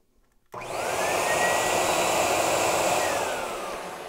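An AspirTech model 1500 vacuum cleaner switches on abruptly after a brief near-silence, then runs with a steady broadband whooshing roar and faint whine, close and continuous, with no voices.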